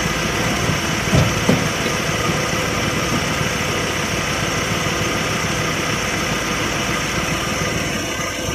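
A van engine idles steadily after starting, a constant close rumble with a brief knock early on, otherwise an even drone with no voices.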